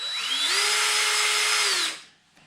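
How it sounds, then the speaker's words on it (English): A power drill bites into a plastic bottle while preparing tea-cup plant pots, a loud close whine that ramps up in pitch, holds steady for over a second, then spins down to near silence. "drill a hole near the bottom"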